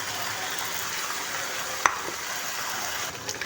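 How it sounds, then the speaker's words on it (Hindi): Chicken fries in a pan with a steady, broad sizzle throughout, broken by a single sharp clink of a utensil partway through and a few faint stirring scrapes toward the end. "अब हम चिकन को अच्छे से फ्राई करेंगे।"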